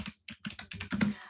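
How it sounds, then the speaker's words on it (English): Quick bursts of computer keyboard typing, close and moderately loud, in short clustered runs of key clicks with a brief pause near the start. "I'm typing on another area."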